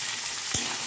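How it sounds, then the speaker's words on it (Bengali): Chopped onions fry in hot oil over tempering spices in a pan, making a close, continuous sizzle. A single brief stirring clack cuts through it partway. "ফোড়নের উপর দিয়ে দেবো কুচিয়ে রাখা পেঁয়াজ, দিয়ে কিছুক্ষণ নাড়াচাড়া করে নেবো পেঁয়াজটা"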